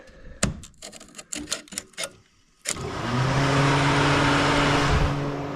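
Pontiac Vibe radiator fan switched on through its relay with a magnet: a run of sharp clicks and taps, then a sudden steady loud whooshing roar with a low hum as the fan spins up and keeps running.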